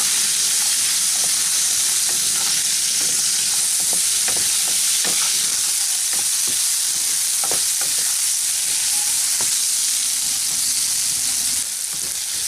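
Pumpkin pieces with salt and turmeric fry in a pan, a loud, constant sizzling hiss with scattered soft clicks and scrapes of stirring, and no one speaking.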